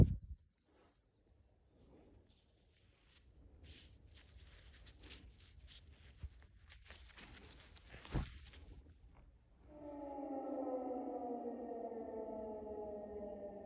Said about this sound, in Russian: Сирены гудят, друзья.